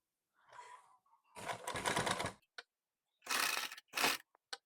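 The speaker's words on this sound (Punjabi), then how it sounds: "ਇਹਦੇ ਉੱਪਰ ਵੀ ਮਸ਼ੀਨ ਲਾ ਲੈਣੀ ਆਪਾਂ ਨੇ ਇਦਾਂ ਸਲਾਈ ਲਾ ਲੈਣੀ ਆ" A sewing machine stitches a suit in close, loud bursts of rapid whirring with brief pauses between them and a few short clicks near the end, with no talking.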